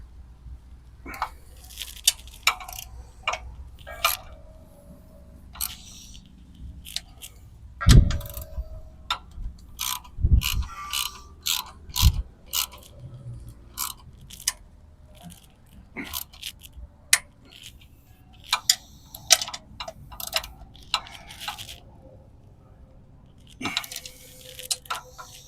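A ratchet tightens bolts on a trailer tongue jack, giving scattered metallic clicks and jangling taps with a few heavier knocks, close and faint, with no talking.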